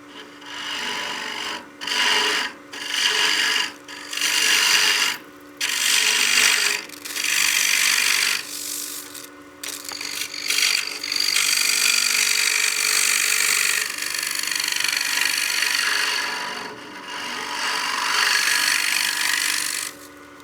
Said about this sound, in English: Let's go ahead and keep scraping out the material and get to our final depth.